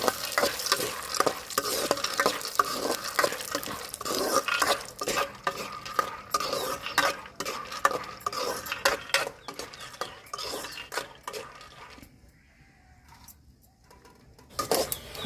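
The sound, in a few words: frying peanuts in hot oil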